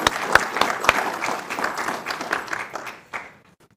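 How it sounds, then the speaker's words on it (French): A crowd applauds at a presidential investiture ceremony, with loud, dense clapping and a few sharp individual claps that gradually thin out and fade. "je demande encore une certaine acclamation pour ce grand homme qui a fait beaucoup de choses pour la communauté"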